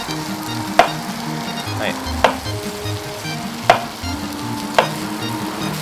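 Food fries in a pan inside the video game Cooking Simulator, a steady close sizzle broken by four sharp clicks at even intervals, with a brief spoken word.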